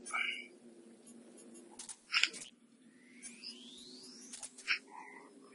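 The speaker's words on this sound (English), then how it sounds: "There's a frog there." A frog croaks in a cave in the video game Metal Gear Solid 3, heard as faint chirps and clicks with a rising tonal sweep over a quiet ambient hum.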